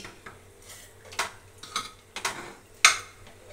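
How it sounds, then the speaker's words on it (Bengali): A spoon scrapes and knocks against a pot while dalia porridge is stirred, giving irregular clinks and scrapes with one sharper metallic clank near the end. "দিয়ে এবার দেখো ডালিয়াটাকে ভালো করে নাড়িয়ে দিচ্ছি।"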